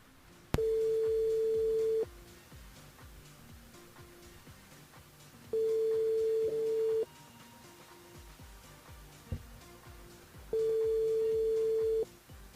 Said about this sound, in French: On appelle Priscilla du côté de sud de Tampon